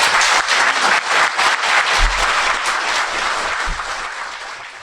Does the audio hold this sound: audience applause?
yes